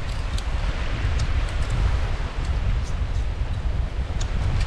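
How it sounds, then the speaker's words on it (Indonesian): Strong wind on a beach roars steadily into the microphone with a low rumbling buffet and faint rustling, and no voices. "Agak lambat masaknya karena terlalu kencang anginnya."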